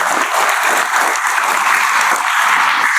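A crowd gathered for an Isra Mi'raj religious gathering applauds steadily and loudly, a dense continuous wash of hand claps with no voices on top.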